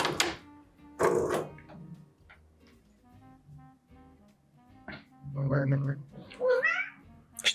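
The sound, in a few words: cat meowing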